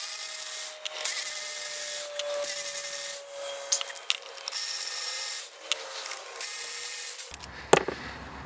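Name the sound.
power tool undoing bolts on London black cab hub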